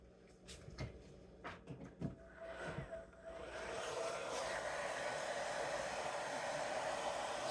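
Hair dryer drying painted strawberry rocks, preceded by a few handling clacks and bumps, then a steady close blowing roar that continues to the end.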